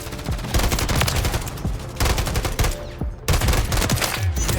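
An SVA 545 rifle fires in Call of Duty: Modern Warfare 3, in loud, close, rapid automatic bursts. Three long strings of shots are split by short pauses.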